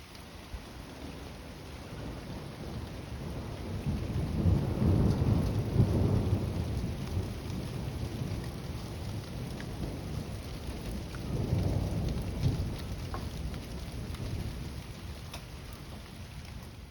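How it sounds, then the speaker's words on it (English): Steady rainfall patters on a roof, with two low rolls of distant thunder swelling and fading; no voices. "The rain sounds beautiful on the roof."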